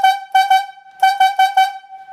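A logging yarder's whistle signals haul back slacked and hold all lines with a pattern of short steady-pitched blasts, two, then a pause, then four, loud and close with no talking.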